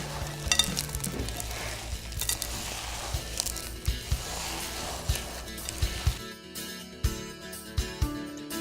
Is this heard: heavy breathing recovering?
no